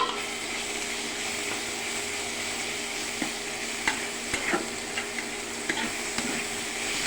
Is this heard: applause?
no